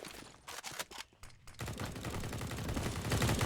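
Rapid gunfire in a professional CS:GO match on Mirage, a burst of loud sharp shots with short gaps giving way to a dense, continuous rattle of spraying fire through a wall.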